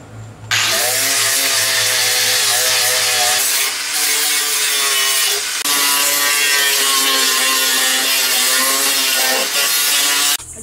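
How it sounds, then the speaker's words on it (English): A loud angle grinder with 60 grit whines steadily against paint and rust on a lawn mower's metal, its pitch dipping and rising as pressure changes, running almost nonstop with brief pauses. "I'm going to have to grind all this paint and loose rust and all this stuff off"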